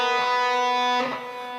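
Electric guitar playing a short phrase from a song's solo, sustained distorted notes ringing out clearly on their own, with a quick note change near the end before the tone fades slightly.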